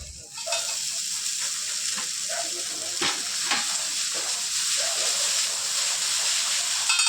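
Noodles toss in a pan with already fried vegetables, giving a loud, continuous hissing sizzle up close, marked by occasional scraping stirs, with no voices.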